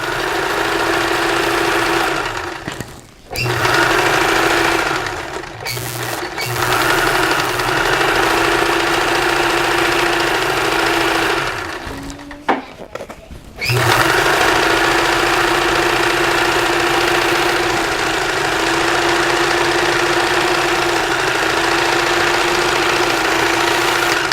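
A sewing machine stitches a pillow case seam with a steady, loud motor hum and rapid needle rattle, stopping briefly a few times before running on again.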